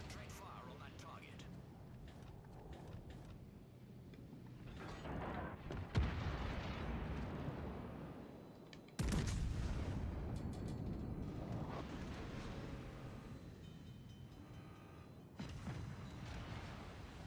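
Naval artillery fire in World of Warships Legends, heavy booming salvos with deep rumbling blasts, one sharp burst standing out amid a dense battle din, with people talking over it.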